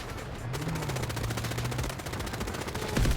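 Sustained automatic machine gun fire in the shooter game Delta Force, a dense rapid stream of shots running nearly nonstop at steady loudness, with a brief louder burst near the end.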